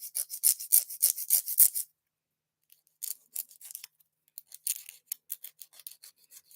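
Fingernails are being filed with a nail file in quick, close, rhythmic rasping strokes. A burst of strokes is followed by a brief pause, then more scattered strokes.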